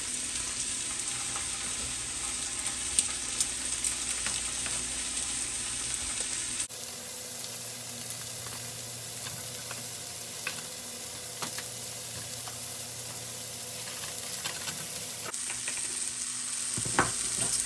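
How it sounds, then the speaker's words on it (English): Onions being tossed and fried in oil in a pan alongside slider burger patties, a continuous moderate sizzle with occasional stirring clinks, the texture shifting as the onions are moved around. "I'll toss the onions around"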